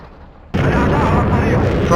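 Scud missile launching in the video game Battlefield Iraq: a quiet lead-in, then a sudden loud blast at half a second that roars on as a sustained, rumbling wash of noise.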